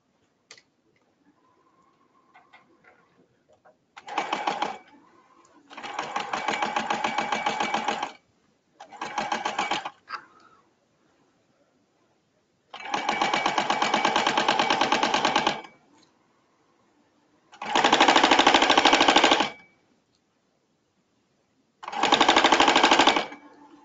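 A sewing machine runs a gathering stitch on a ballet shirt in six loud bursts of rapid mechanical stitching, each a few seconds long, separated by quiet pauses.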